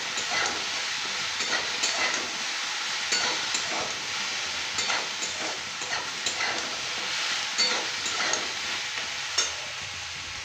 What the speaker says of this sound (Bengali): এটা একটু নেড়ে চেড়ে ভালো করে ভেজে নিতে হবে।